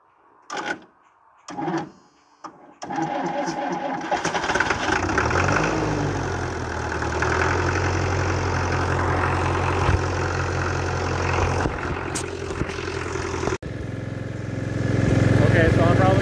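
B275 tractor diesel engine cranks with a few short bursts, catches, and settles into a steady, loud, close idle with a throbbing rumble, while people talk over it.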